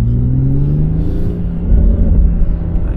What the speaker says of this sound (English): this one has the M Performance exhaust, so it sounds a lot fruitier than one without it.